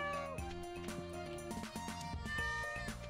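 A cat meows in the farming game Stardew Valley, a few short mews layered over steady, tuneful background music, with no talking.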